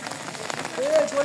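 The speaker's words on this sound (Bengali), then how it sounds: "এখানে অলরেডি বৃষ্টি আছে একটু" Light rain patters steadily at an outdoor football match, a soft diffuse hiss with a brief faint whistle-like tone near the end.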